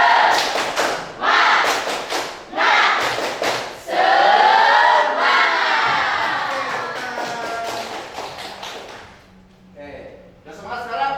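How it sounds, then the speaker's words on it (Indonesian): An audience performs a rhythmic spirit clap at an Indonesian talk, with bursts of patterned group clapping, loud shouts and cheering between them, then a brief quieter stretch with speech at the end. "Tepuk semangat."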